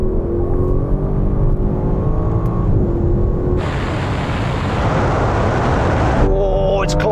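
BMW, AMG, Alfa Romeo and Jaguar SUVs launch together in a drag race from 50 mph in third gear with manual shifting. Engines roar loudly and build steadily, with a sharp rise in intensity partway through, continuous and close, with no talk.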